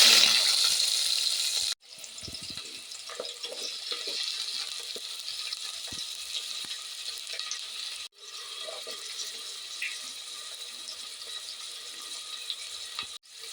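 Onion frying and being sautéed in a pan for vegetable biryani gives a continuous loud sizzle with soft stirring scrapes, broken by two brief pauses before the hiss resumes.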